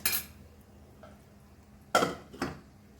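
A lid clanks onto a pot of sardine curry, Goan style without coconut, with a sharp metallic clatter at the start and two more clinks near the end, moderately close.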